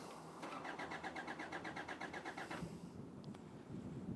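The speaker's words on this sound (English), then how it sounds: "I'll just crank it over." A Hyundai Santa Fe engine cranking without starting, an even pulsing starter whir at moderate level for a few seconds before it cuts off, leaving a low background rumble.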